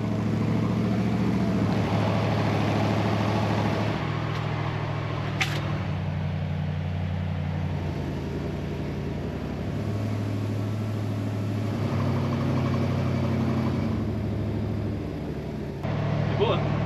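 A camper truck engine drones steadily while driving through a forest park, low and continuous with shifting pitch, voices and occasional cabin noises over it.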